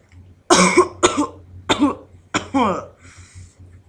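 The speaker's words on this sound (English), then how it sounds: "So when you come up to cough" Several sharp coughs or throat-clearing bursts in quick succession, close and fairly loud, with brief pauses between them and a faint breathy trail at the end.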